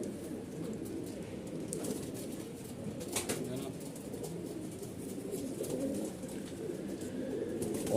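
A Malwai pigeon coos softly at close range, low throaty murmurs repeating amid faint rustling and a brief flutter, with quiet background noise.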